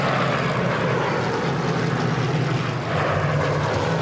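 Several Spitfire fighter planes fly overhead at a Battle of Britain 75th anniversary event, a loud, steady propeller-engine roar that fills the whole stretch with a brief dip before building again.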